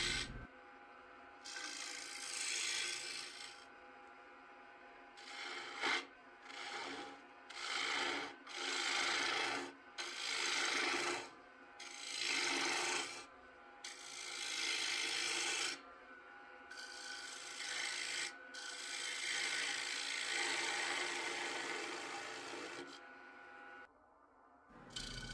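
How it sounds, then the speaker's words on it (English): Turning tool undercutting the rim of an Accoya wood bowl on a lathe, a dry rasping scrape coming in repeated passes of a second or two each, with a longer steady cut near the end, close and fairly quiet. "Here I'm undercutting the rim a bit."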